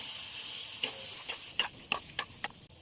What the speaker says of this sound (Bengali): মশলাটা ভাজার জন্য নেড়ে দেবো।